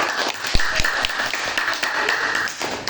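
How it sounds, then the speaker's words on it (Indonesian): A small group, likely a classroom, applauds for two students named Yuga and Mira, with scattered claps and a few sharper hits over dense crowd noise. "tepuk tangan dulu buat Yuga dan Mira"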